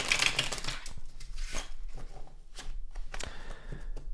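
Tarot deck being shuffled by hand, several quick papery riffles and card slaps at close range, spaced irregularly with quiet gaps between them.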